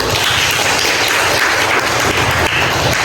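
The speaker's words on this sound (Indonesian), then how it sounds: "kita beri aplaus untuk kelompok satu" A classroom of students applauds a group after its presentation, loud close-up clapping that stays dense and continuous for the whole stretch.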